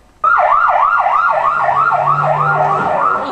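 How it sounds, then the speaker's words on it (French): A loud, close ambulance siren wails in a fast rising and falling pattern as the ambulance pulls away, starting abruptly and holding steady over a low engine rumble. "l'ambulance démarre un tout petit peu trop vite"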